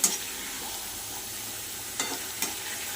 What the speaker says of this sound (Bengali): সুন্দর করে এইভাবে কষিয়ে নিতে হবে